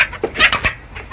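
Several short clucks from KUB chickens, a native Indonesian breed, kept in a small home flock; the calls come close and fairly loud in a quick, uneven burst.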